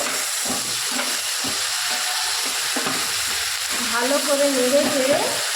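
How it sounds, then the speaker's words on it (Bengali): Mustard, onion and green chili paste sizzles in hot oil for a Bengali-style fish curry, with a loud, constant hiss and repeated scraping strokes as the paste is stirred around the pan. "এবার এতে আমি সরষে, পেঁয়াজ আর লঙ্কার বাটাটা দিয়ে দেবো। দিয়ে ভালো করে একে নেড়ে চেড়ে"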